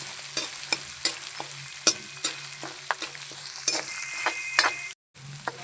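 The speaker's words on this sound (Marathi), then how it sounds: "आता आपण मिरची टाकू. छान परतून घेऊ." Green chilies frying in hot oil in a pan as a spoon stirs them, a steady sizzle broken by repeated sharp scraping clicks of utensil on metal, close and fairly loud, with a brief dropout near the end.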